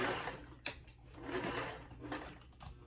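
A sewing machine stitches fabric at close range with a steady, soft mechanical whir, broken by a brief sharp click and slight changes in pace.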